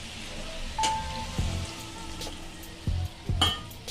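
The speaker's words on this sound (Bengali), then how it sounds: "দেখুন আলুটা ভাজা ভাজা হতেই আমি এর মধ্যে দিয়ে দিচ্ছি কটা চেরা কাঁচা লঙ্কা" Potatoes frying in a pan with slit green chillies and kalonji, a continuous close sizzle broken by several sharp spatula knocks and scrapes.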